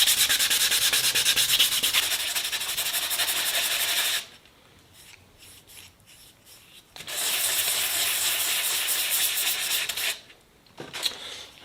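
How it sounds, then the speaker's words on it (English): Sanding a forged carbon fiber part for a Sonex aircraft, loud, close abrasive rubbing in two long continuous bursts separated by a quieter pause with faint scraping, ending in short scratchy strokes. "Gonna go ahead and keep sanding now."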